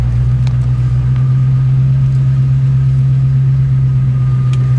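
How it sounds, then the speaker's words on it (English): A 1966 Mustang Fastback engine idles steadily with a deep, continuous low rumble throughout, no voices, with faint ticking that could suggest a small exhaust leak. "That tip could just be just a little exhaust leak too."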